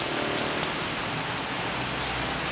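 Heavy rain falls steadily outdoors, a dense, even hiss of countless drops striking surfaces, close and continuous with no voices.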